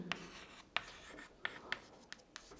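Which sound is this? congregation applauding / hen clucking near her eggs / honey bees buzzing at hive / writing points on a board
writing points on a board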